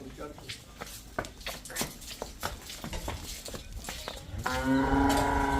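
A pregnant buffalo lets out a long, loud, harmonic moo near the end, preceded by scattered thumps, rustling and background voices.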